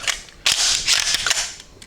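Steyr MPi 81 submachine gun firing: two sharp, loud cracks about a second apart, each followed by a brief ringing tail and mechanical rattle, with no talk.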